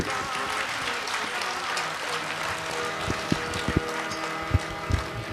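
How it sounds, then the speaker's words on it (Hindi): Loud applause at a Diwali morning celebration in a hall at Mount Abu, a sustained crowd of clapping with a few sharp thumps and knocks toward the end. "जोरदार तालियां बजाकर एक बार फिर से।"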